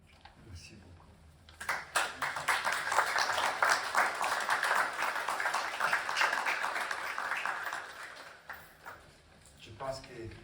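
Audience applause at a French tribute ceremony honoring Josiane Cougard-Fruman: dense, steady clapping rises after a quiet start, holds for several seconds, then fades out, leaving a faint murmur and a few scattered claps.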